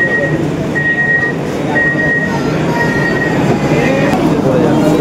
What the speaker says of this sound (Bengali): ফার্স্ট টাইম এখন দেখছি এসি লোকাল ট্রেন আমাদের গোবরডাঙ্গাতে